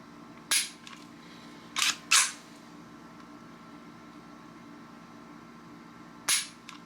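Trigger of a Kahr CW9 pistol pulled through its long double-action stroke and let out to reset, giving four sharp, close metallic clicks at uneven intervals, one pair close together. The room is quiet between them.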